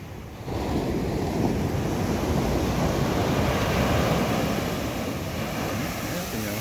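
Big ocean waves surge and roar close by, a heavy continuous wash mixed with wind buffeting the microphone.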